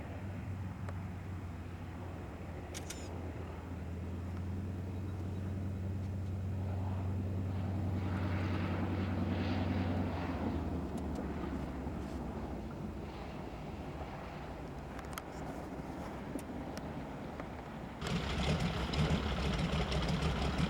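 A propeller airplane arrives at a remote Canadian fishing spot, its steady engine drone continuous and moderately loud for about twenty seconds, swelling slightly toward the end with no voices heard.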